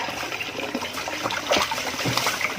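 Water poured into a container outdoors in a rural province, a steady close splashing trickle with brief surges, no talk over it.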